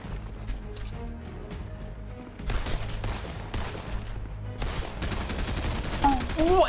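A grenade launcher fires in a video game, its sharp, punchy shots and bursts of blasts arriving in irregular clusters, fairly loud, with some bright chirps near the end.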